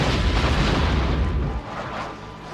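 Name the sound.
explosion in a movie trailer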